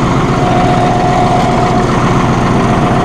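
A 2016 John Deere 5045E utility tractor idles with a steady, loud diesel rumble and a faint constant whine while its 3-point hitch is lowered.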